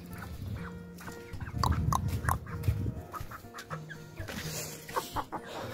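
Hens cluck and squawk in a backyard poultry pen where a new hen has just appeared, with irregular close clucks and rustling throughout.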